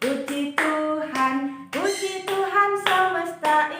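Children clap their hands in rhythm during a sung church song at a kids' service, the claps landing under the melodic singing voices in a steady beat.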